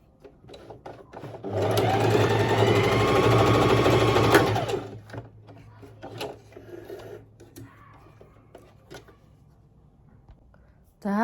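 Sewing machine stitching a patchwork flower, running fast and steady for about three seconds close by, then stopping, followed by light handling clicks and rustles with faint talk.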